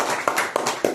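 Audience hands clapping in a short, quick burst, with several loud, sharp claps at a steady rhythm, close and clear with nothing else over them.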